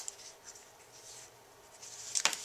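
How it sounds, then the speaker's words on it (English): A pencil scratches out short marks on the back of a card at close range, with a quiet scribbling texture and a brief sharper scratch near the end. "you could use a little pencil mark and put it on the back there"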